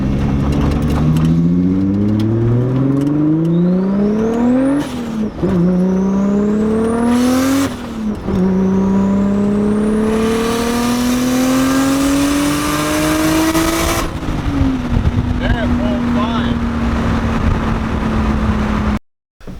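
A turbocharged Nissan RB25 car engine revs repeatedly through the gears at high RPM, rising whines broken by shifts, with a rough, stuttering misfire edge between 5,000 and 7,000 RPM.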